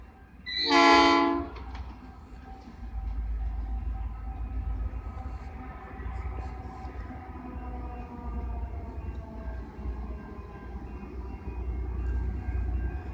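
A Nathan P5 train horn on a locomotive sounds one short, loud, harsh chord near the start, followed by a long low rumble of a passing train.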